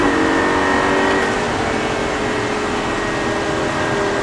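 Lamborghini sports car accelerating, a loud, steady engine roar heard from inside with a sustained drone and no speech.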